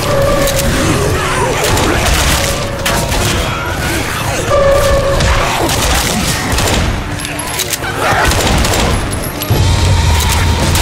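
Heavy, nonstop gunfire from shooting zombies in Left 4 Dead 2, loud and chaotic, with shots, booms and clattering layered over a constant din.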